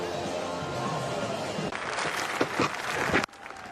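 A cricket stadium crowd at a 2014 ODI against Sri Lanka greets Luke Ronchi reaching 150. Crowd noise sits under a commentator's voice, then swells into a loud roar of cheering and applause that cuts off abruptly near the end.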